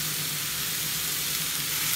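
Tomato sauce sizzles loudly in a hot pan, a constant bright hissing crackle with no voices.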